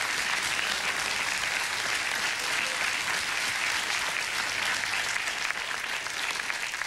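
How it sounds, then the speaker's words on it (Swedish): A TV studio audience claps warmly, a dense, even wash of applause that holds steady for about seven seconds with no voices over it. "Och du får en värmande applåd av studiopubliken"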